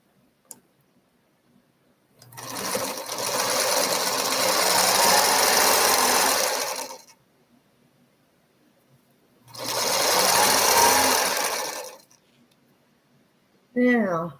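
A sewing machine stitches diagonal fabric strips in two bursts, first a long run and then a shorter one, with a fast steady rhythmic whirr close by and quiet pauses between.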